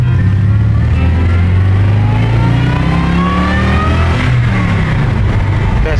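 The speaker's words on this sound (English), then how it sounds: "that supercharger whine." A V8 engine with a supercharger revs loudly and steadily up close, its rising and falling engine tone topped by a thin supercharger whine throughout.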